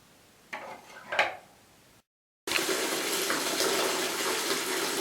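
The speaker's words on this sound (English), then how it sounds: "Fill your sink with some warm soapy water." Warm soapy water runs from a tap into a sink, used for washing a plastic trumpet. A couple of brief clunks come first, then a short silence, then a steady, close gushing stream.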